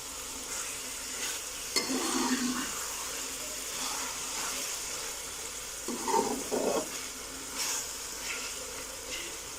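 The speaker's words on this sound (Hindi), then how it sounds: "लो फ्लेम पे इसकी 5 से 6 मिनट अच्छे से भुनाई कर लेंगे।" Potatoes and spinach for aloo palak sabzi fry on a low flame, giving a steady soft sizzle with a few brief stirring scrapes of the spoon in the pan.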